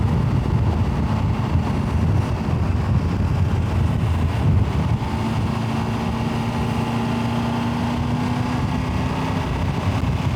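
Wind roars across the microphone on a wet, gusty motorcycle ride along Ireland's west coast, a loud, constant rumble with the engine droning underneath and a rising tone toward the end.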